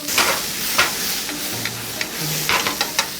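Shrimp stir-fry in a frying pan, hissing and sizzling steadily with scattered scraping ticks and short clacks as the pan is tossed and turned.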